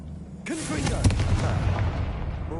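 In Hogwarts Legacy, the Confringo blasting curse goes off with a booming explosion that rumbles on afterward, just after a voice calls out.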